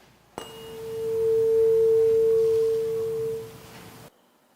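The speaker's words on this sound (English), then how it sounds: "we have to sound the tuning fork by striking it to the rubber mallet" A tuning fork struck with a rubber mallet and held over a water-filled graduated cylinder rings as one pure, steady tone that swells, holds for about three seconds, then fades and cuts off.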